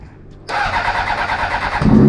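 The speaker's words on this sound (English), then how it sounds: "I'll give her a start here." A 2004 Honda CBR 600RR motorcycle engine fires up abruptly after a faint crank and settles into a close, loud, rough idle with a slight rev near the end.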